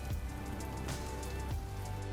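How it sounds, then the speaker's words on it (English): Steady rain patters on a surface with a dense, even hiss, a few heavier drops standing out, and no one talking, in the Rain: Series III behind-the-scenes documentary. "What's with all the rain recently?"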